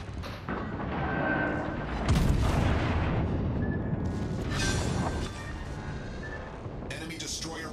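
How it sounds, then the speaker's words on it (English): A destroyer blowing up in the naval combat game World of Warships: Legends, heard as a loud, dense rumbling blast with booming, mechanical battle noise and scattered crackle, mixed under a voice. "Enemy destroyer blown up."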